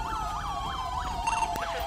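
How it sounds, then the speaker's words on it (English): Police sirens in GTA 5 with the LSPDFR mod, a loud, fast wailing siren that rises and falls repeatedly, close and continuous, with another siren tone layered underneath. "So many sirens."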